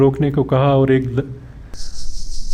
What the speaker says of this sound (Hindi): ये ताज़ान की आवाज़ है जिसे अंग्रेज़ी ज़ुबान में सिकाइडा कहते हैं।